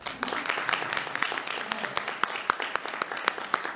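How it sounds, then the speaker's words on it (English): After a District 4 commissioner debate, the audience claps steadily, with distinct individual claps standing out over a thinner patter, fairly quiet and even throughout. "We can offer a round of applause."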